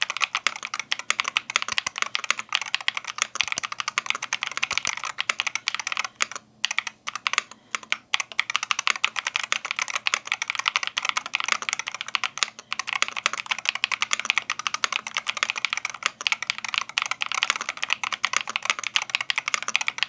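Continuous, fast typing on a budget MAD 68HE magnetic Hall-effect switch keyboard modeled on the Wooting 60 HE, with crisp, close keystroke clacks and no talking.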